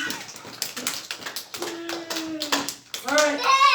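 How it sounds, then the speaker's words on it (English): Preschool children clap their hands during a Simon Says game at story time, a scattering of uneven taps under an adult's voice and children's chatter. "Simon Says, clap your hands."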